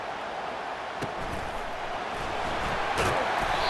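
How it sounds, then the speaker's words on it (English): Home stadium crowd in the video game College Football 25 roars steadily throughout, a dense broad wash of cheering that swells louder toward the end, with a couple of sharp bursts standing out over the constant noise. "how nice is it to have the home crowd going absolutely bananas"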